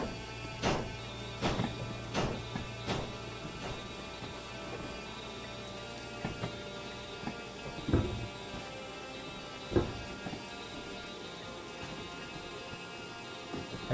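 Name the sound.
heavy rain in the train game Derail Valley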